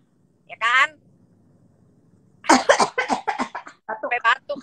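A single sharp cough rings out, followed after a pause by a burst of rapid, choppy coughing or sputtering fits.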